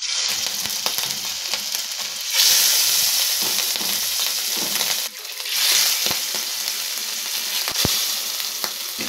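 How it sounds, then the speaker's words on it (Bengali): Hilsa fish pieces, rubbed with a little salt and turmeric, sizzling in hot oil in a pan, a loud steady crackle with bursts of spitting as pieces go in and get shifted. "তেলটা ভালোভাবে গরম হয়েছে, আমি এবার মাছের পিসগুলো দিয়ে দিচ্ছি।"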